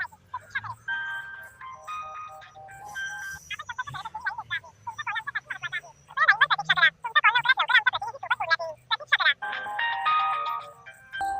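Hold music plays over a phone line while a caller waits for a customer care representative, a bright electronic melody with warbling tones that repeats in bursts, fairly loud and steady, with faint speech underneath.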